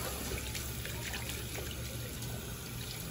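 Tap water runs steadily and close by as hands are rinsed at a sink, a constant broadband splashing rush that fills the clip alone without pause.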